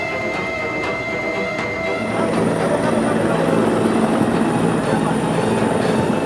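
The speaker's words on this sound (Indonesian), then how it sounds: "pesawat dievakuasi dengan cara diangkat menggunakan helikopter Kamov dari distrik Kenyam menuju Timika" A Kamov helicopter airlifts a plane from Kenyam district toward Timika, a loud, steady rotor and engine roar that swells after a couple of seconds and then holds.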